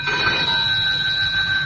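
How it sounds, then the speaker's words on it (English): A telephone rings beside a bed with a steady, unbroken electric bell tone, fairly loud and close, with no voices over it. "answered at once when the phone rang by my bedside"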